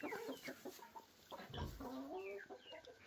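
Several chickens cluck and murmur inside a backyard coop, overlapping calls coming and going at moderate distance with a brief low thump midway.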